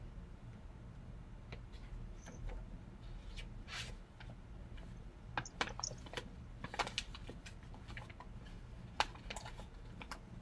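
Soft, irregular clicking of keys on a computer keyboard, quiet taps in uneven bursts against a low background hum.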